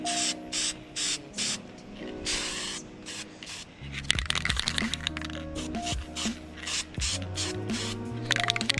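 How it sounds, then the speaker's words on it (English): An aerosol can sprays chameleon color paint onto scooter parts in short hissing bursts separated by pauses, with faint rattles and clicks in between, heard up close. "right now I'm going to spray the chameleon color"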